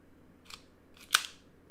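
A cutting tool snips at a Kevlar strip twice, a faint short crunch followed by a sharper, louder clipped snap, close by in an otherwise quiet room.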